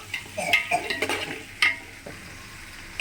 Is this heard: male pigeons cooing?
no